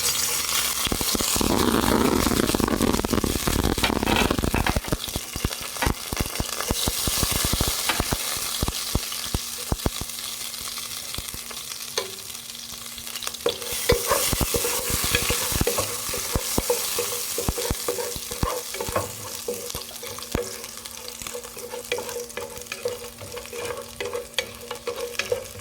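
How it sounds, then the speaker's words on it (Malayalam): Spices sautéing in hot ghee, a close, loud sizzle at first that gives way to busy scraping and stirring strokes in the pan, with the crackle continuing softer underneath until the end. "നെയ്യിലേക്ക് തന്നെ മസാലകളൊന്ന് ഇട്ട് കൊടുത്ത് വഴറ്റിയെടുക്കാം."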